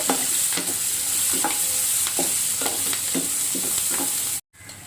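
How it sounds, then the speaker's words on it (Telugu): Chopped onion and curry leaves fry steadily in a pan, a broad close sizzle with repeated stirring clicks and scrapes from a spatula, no voices, ending in a brief dropout near the close. "ఒక ఎర్రగడ్డని చిన్న ముక్కలుగా కోసి వేసుకోండి. ఇవి కూడా దోరగా వేయించుకోవాలి."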